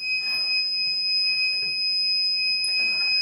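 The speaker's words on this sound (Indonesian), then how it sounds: "Kita buka pintu lagi. Nah, ini buzzer berbunyi lagi ya secara otomatis." A homemade automatic door alarm, built from a lighter wheel and old satellite antenna cable, buzzes as the door opens: a steady, piercing high-pitched electronic tone that holds throughout, loud and close, with faint room noise underneath.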